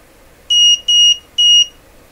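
A Mustool MT8206 multimeter sounds its over-voltage alarm: three clear, evenly spaced electronic beeps, each about a quarter second long, loud and close against a quiet background.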